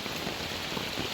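Heavy typhoon rain falling steadily, a continuous dense hiss of drops on surfaces, even and unbroken at a moderate distance.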